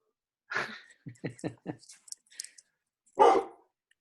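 A pet dog gives a few short, close barks and yips in quick succession, separated by gaps, with a louder bark near the end, heard among indoor chatter.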